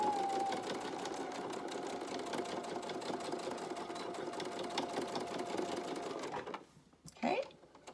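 A sewing machine runs a straight stitch back and forth across a fabric lanyard, a steady close whirring hum with rapid needle ticks that holds for over six seconds, then stops, followed by a brief rustle.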